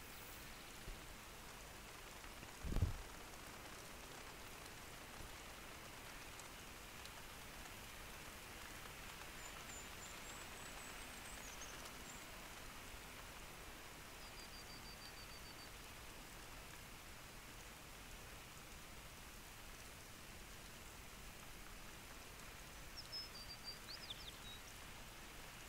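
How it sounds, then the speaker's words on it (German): Steady rain falls across the outdoor landscape of the hunting video game The Hunter: Call of the Wild, an even, soft hiss throughout with a single brief thump early on and faint bird calls. "Jetzt fängt es wieder an zu regnen."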